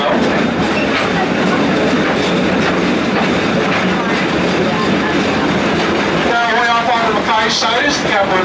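A train rumbles past close by at the Hawaiian Railway Society, loud clattering wheels over rails with sharp metallic squeals near the end.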